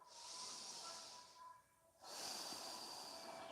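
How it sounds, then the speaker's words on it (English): Slow, deep breaths drawn in and pushed out through the nose during a yoga session, a long airy inhale, a brief quiet pause, then a steady hissing exhale, close and fairly soft with no talking. "Breathing through your nose."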